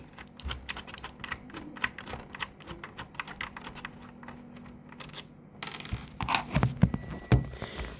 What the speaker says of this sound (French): il faut retirer deux vis